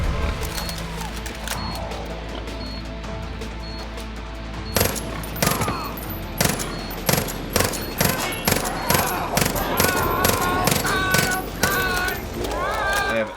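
Repeated gunshots from weapons in Far Cry New Dawn, a steady run of sharp, loud reports from about five seconds on, fired in a rhythmic series over game music and ambience.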